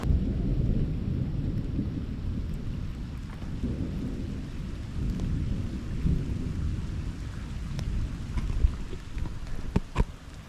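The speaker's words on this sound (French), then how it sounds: "en fait il pleut, c'est bourré d'humidité" Steady rain and rumbling thunder during a storm at a bivouac in the Var countryside, with a constant low roar and a few sharper cracks near the end, no voices.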